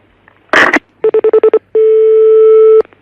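Telephone dialing tones: a short burst of noise, then a quick run of six evenly spaced beeps, followed by one long steady tone, loud and close with no voices.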